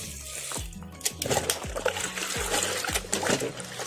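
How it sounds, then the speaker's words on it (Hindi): Water mixed with cow dung is poured and splashed onto a compost heap of vegetable and fruit waste in several close, wet splashes and trickles, spaced roughly every half second, with no talk. "पानी को अपन ये कचरे के ऊपर छिड़क देंगे पूरा"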